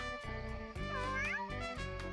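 A cartoon cat meows once with a rising-falling call in the video game Mewgenics, faint and brief over steady game music.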